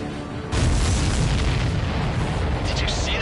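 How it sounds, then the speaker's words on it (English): Missile strike on an enemy supply ship in the jet combat video game Ace Combat 7: a sudden loud, deep boom bursts in and rolls on as a heavy rumbling blast, with crackling debris near the end. "Did you see that explosion?"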